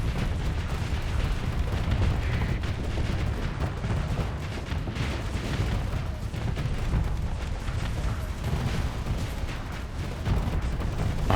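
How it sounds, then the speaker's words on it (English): A non-stop weapons barrage pounds the Onslaught in the space combat game Starsector, a dense, continuous roll of booming gunfire and explosions with no pauses. "Just fucking watching the non-stop barrage on the onslaught on the left"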